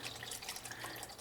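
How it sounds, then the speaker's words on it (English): Fresh coolant poured through a funnel into the reservoir tank of a Nissan Skyline R33/R34, a soft continuous liquid trickle and gurgle, close and quiet. "I'm gonna pour it in and I'm gonna inspect."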